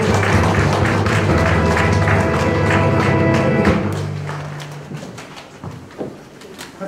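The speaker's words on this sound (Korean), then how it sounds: "뜨거운 박수로" Applause from the audience at a Korean environmental awards ceremony welcoming an honoree, loud and steady at first, then thinning out toward the end.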